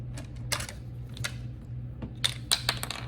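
A flathead screwdriver pries a small color-coded plastic cap off a 1000-watt Everstart Maxx power inverter, giving several faint, sharp clicks and scrapes scattered over a low steady hum.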